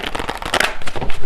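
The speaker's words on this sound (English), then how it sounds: "I'm going to get one final card here from this deck" A card is pulled from a tarot deck, giving a loud, close, dense crackle of shuffling and riffling cards for about a second, with no voice.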